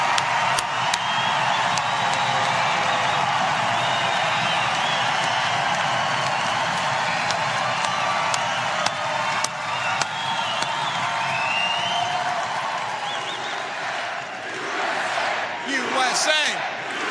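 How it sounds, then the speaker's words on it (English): A large political rally crowd roars, cheers and applauds in answer to a poll of the audience, forming a sustained, dense wall of noise with scattered claps and shouts that eases off toward the end. "You can respond to this poll by your applause."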